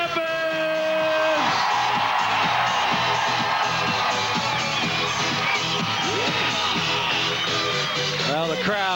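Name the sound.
crowd cheering at a beach volleyball final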